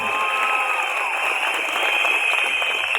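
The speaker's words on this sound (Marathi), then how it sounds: "एकदा जोरदार टाळ्या चिमुकल्यांसाठी झाल्या पाहिजेत" Sustained applause and cheering from a large crowd at a Marathi political election rally, a dense steady clatter of clapping at full volume with no break across the whole stretch.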